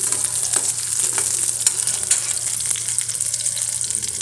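Small shallots and six dried red chillies sauté in a pan for garlic chutney, giving a steady, close frying sizzle with soft stirring scrapes throughout, no voices.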